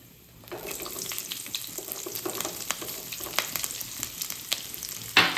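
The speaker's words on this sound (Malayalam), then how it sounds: "നമുക്ക് ഇതിലേക്ക് ഒരു സവാള ചെറുതാക്കി അരിഞ്ഞത് അതുപോലെ മൂന്ന് പച്ചമുളക് അതും ഇതിലേക്ക് ആഡ് ചെയ്ത് വെക്കുക" Chopped onion, three green chillies and garlic frying in oil for a spinach and lentil curry, giving a soft, close crackling sizzle with scattered pops that grows a little busier and ends in a sharper burst.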